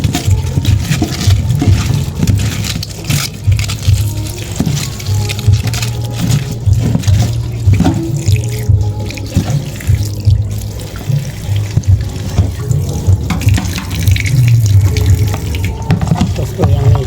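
Tap water running steadily into a kitchen sink while vegetables are washed during lomi preparation, with splashing and clattering rising and falling over a constant rushing flow, close by.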